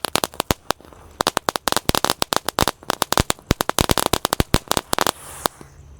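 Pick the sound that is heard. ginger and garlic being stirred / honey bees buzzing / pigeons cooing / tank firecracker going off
tank firecracker going off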